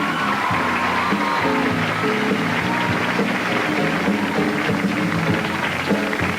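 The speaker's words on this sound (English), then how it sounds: "let's hear a rousing applause for our 1993 homecoming chorus" Crowd applause at a 1993 high school homecoming football game, a sustained wide roar of clapping from the stands for the homecoming chorus, with music and voices blended underneath.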